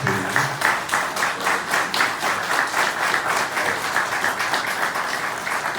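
Audience applause at the 2023 Gülten Akın poetry award ceremony, a steady dense patter of many hands clapping at close range, with a faint voice briefly under it.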